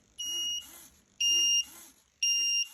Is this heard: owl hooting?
no